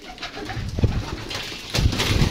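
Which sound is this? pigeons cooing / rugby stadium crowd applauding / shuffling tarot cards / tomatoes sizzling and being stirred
pigeons cooing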